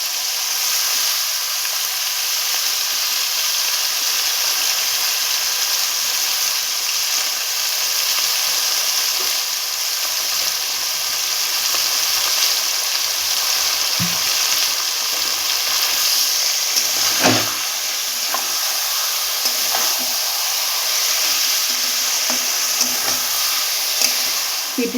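Marinated chicken pieces for biryani frying in a pan: a loud, continuous hissing sizzle that holds steady the whole time, with a few faint clinks and stirring sounds but no talking.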